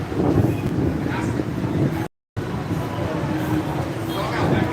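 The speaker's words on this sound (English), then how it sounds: "it's going to be a bit windier" Strong wind buffets a microphone outdoors in Saigon, Vietnam, a loud rumbling gust that cuts out briefly midway, with a person speaking under the blustering.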